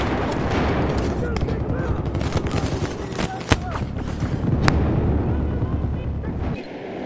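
Dense, continuous gunfire and explosions from a Battlefield 4 Conquest Large match on the Zavod 311 map, rattling automatic bursts with sharp single cracks, loud and sustained over several seconds, with a voice talking over it.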